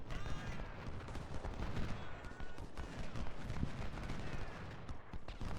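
Dense Civil War battle gunfire from the strategy game Ultimate General: Civil War, with rapid overlapping musket volleys and heavier artillery thumps rolling on without pause, at moderate loudness.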